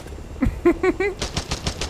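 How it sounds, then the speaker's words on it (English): Gunfire in a military shooter video game that pays homage to the old Ghost Recon: a quick burst of sharp automatic shots, loud and close, followed by a rapid rattling volley. "Ample gunfire apparently doesn't attract the military choppers."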